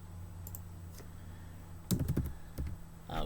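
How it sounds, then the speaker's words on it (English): Keys clicking on a computer keyboard as a name is typed, a short burst of close taps and clacks after a quiet pause, over a low steady hum. "So let me just type that in here."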